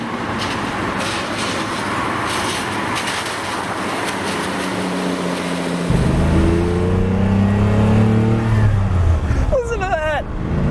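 A Lamborghini Countach engine revs hard on a wet day, its deep exhaust note climbing in stepped rising harmonics after a steadier idle-like rumble, loud and close, with a brief voice near the end.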